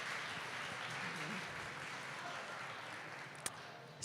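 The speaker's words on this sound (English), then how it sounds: "So everybody, please give her a round of applause." Audience at the iBE NYC 2017 beauty conference applauding for a speaker: a fairly faint, steady wash of many hands clapping throughout, with no voices over it.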